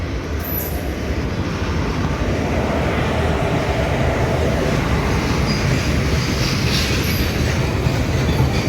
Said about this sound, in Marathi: आता जस्ट ट्रेन आलेली आहे दिवा रोहा